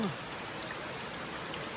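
Rain falls steadily in a forest, a dense, even hiss that runs throughout at moderate level, with a brief voice at the start and end.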